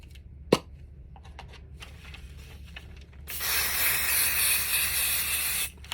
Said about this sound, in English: I'm using the Spray Bond basting adhesive